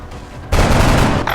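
A gunshot blast in XCOM erupts abruptly after a quiet lead-in, a loud burst of crackling fire that tails off after about a second, with no voices.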